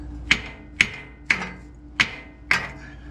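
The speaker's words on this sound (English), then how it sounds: "I'm just gonna freaking hit it with a hammer" Five sharp metallic hammer strikes on the timing cover of a 1981 Corvette engine land at an even, steady pace, each ringing briefly and decaying before the next, close and fairly loud with no talking.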